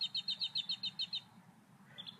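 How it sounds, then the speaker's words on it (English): Birds chirp in a quick run of about eight short, bright tweets over the first second, then fall quiet before one more faint call near the end, with a low steady hum underneath. "Sometimes they know, and they dead ass tweet when I say stuff."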